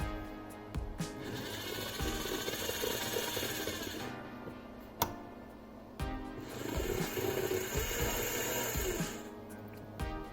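A small DC motor spins up and down in speed, producing a faint mechanical whirring and ratcheting rattle that rises and falls in pitch, with a few sharp clicks scattered between the runs.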